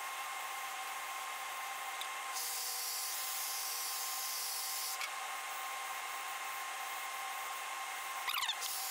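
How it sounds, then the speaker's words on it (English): Iridescent bright gold paint sprayed from an airbrush onto a large musky fishing bait, heard as a steady, close, fine hiss that swells briefly in the middle of the clip. A short rattle sounds near the end, and no one speaks. "I'm gonna start by spraying a little iridescent bright gold."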